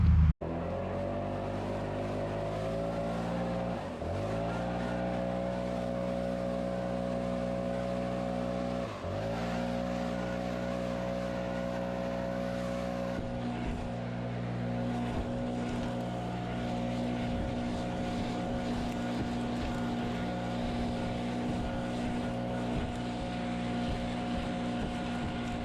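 A Ventrac 4500Z compact tractor powering a power rake edges a gravel driveway, its engine droning steadily and loud up close, the pitch dipping twice under load.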